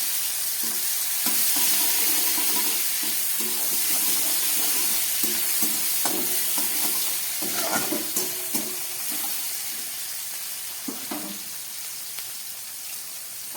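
Chopped capsicum and tomato fry in a pan with black cumin, giving a steady, close sizzle throughout, with occasional stirring clinks and scrapes but no speech.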